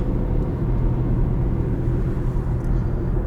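Toyota Prius driving on a highway at sunset, steady broadband road and tire rumble heard from inside the cabin, constant and fairly loud with no talk.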